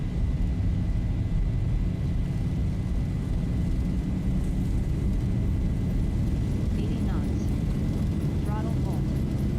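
Airliner engines spool at takeoff thrust in the Zibo mod flight simulator game, a steady, loud broadband roar with faint radio-style voices underneath.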